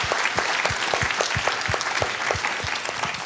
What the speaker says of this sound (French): on peut déjà les applaudir pour être présents quand même